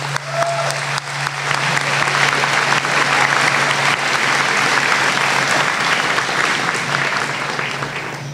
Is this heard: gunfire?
no